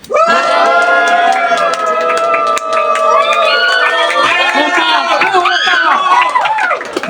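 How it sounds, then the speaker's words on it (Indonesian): A youth group at an outbound church retreat cheers and shouts together in celebration, a loud, continuous crowd roar with overlapping yells and voices throughout. "Terserah mau gimana gayanya, kalian sorakkan kemenangan."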